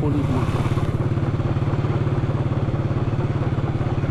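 Motorcycle riding along a road, its engine chugging in a steady rapid pulse, loud and close throughout.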